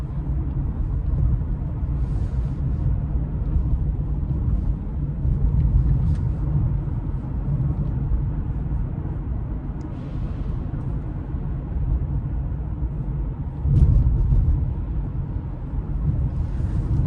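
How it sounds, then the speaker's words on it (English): Interior cabin noise in a 2024 Honda CR-V Hybrid while driving, a constant low tire and road rumble with steady wind hiss and occasional faint bumps, no talking. "I think tire noise is a little bit more pronounced in this car than it is in a RAV or CX-50"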